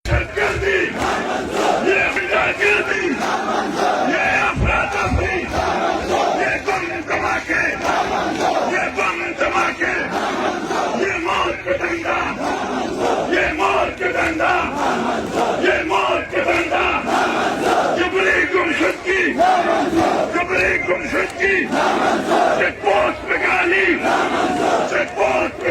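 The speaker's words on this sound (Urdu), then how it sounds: "یہ لوگ نعرے لگا رہے ہیں کہ یہ دہشت گردی نامنظور، یہ غنڈہ گردی نامنظور، یہ مارا ماری نامنظور۔" A large crowd at a peace march in Bannu chants slogans in loud, rhythmic unison, voices rising and falling in repeated call-and-response waves that fill the entire stretch without pause.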